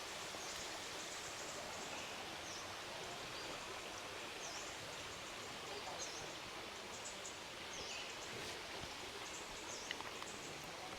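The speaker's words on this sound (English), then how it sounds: "It's the same waterfall." Khlong Phlu waterfall on Ko Chang, Thailand, gives a steady, even wash of falling water, faint and distant, with no breaks.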